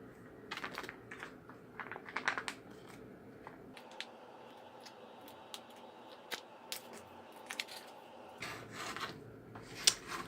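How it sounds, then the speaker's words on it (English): A cheese tortellini in tomato sauce meal pouch is torn open at the notch, giving crinkly plastic rustles and rips in short bursts, close and moderately loud, with a quieter pause in the middle. "You can tear it open across the top here with a notch."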